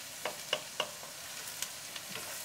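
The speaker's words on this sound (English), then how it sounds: "we'll get a wooden spoon. And to this, we're going to add the rice" Rice stirred with a wooden spoon in a pan: a few soft scraping taps and clicks over a faint sizzling hiss, close and quiet, with no talking.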